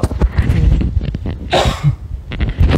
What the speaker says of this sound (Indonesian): Sekali lagi mohon maaf kalau sering batuk ya.